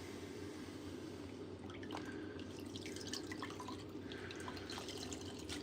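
Water runs and splashes while a van panel is washed down, a steady trickling wash with light drips and splatter under a constant low background hum, moderately quiet.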